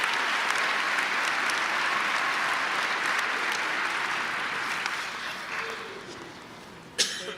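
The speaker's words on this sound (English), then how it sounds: "Please, give them a round of applause." A large audience at a Western Nevada College graduation ceremony in Carson City applauds steadily and loudly for several seconds, then the clapping thins and fades, ending with a brief sharp noise near the close.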